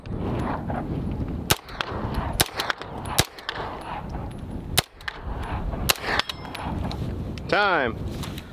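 Sharp 9mm pistol shots crack out one after another in a timed shooting drill with a side-charging carbine setup, about eight loud reports spaced irregularly over steady background noise, followed by a brief timer beep.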